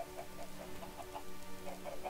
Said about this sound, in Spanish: Hola, están siguiendo a mamá gallina.